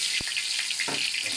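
Garlic dropped into hot oil for adobong dilis, a brief close sizzle with a couple of soft taps in the pan over a short stretch.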